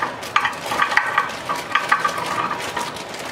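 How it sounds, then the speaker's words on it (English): Frozen tater tots tumble into a baking pan for a cowboy casserole, a close run of irregular knocks and rattling clatters with short pauses between handfuls, no voices. "I'm going to add a layer of tater tots on the bottom of the pan"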